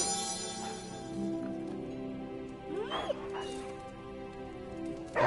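A hellhound dog in the Marvel's Midnight Suns video game whimpers and yips in short, high, rising cries over a steady game music bed, fairly close, with a louder yelp at the end.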